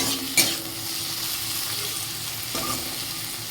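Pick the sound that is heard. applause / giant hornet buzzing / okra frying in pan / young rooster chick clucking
okra frying in pan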